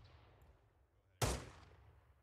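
A single sharp rifle shot in Arma 3, set in World War II, fired while zeroing the weapon, cracking loud and close over a quiet low rumble and then decaying briefly.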